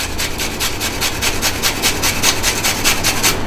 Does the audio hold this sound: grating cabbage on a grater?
yes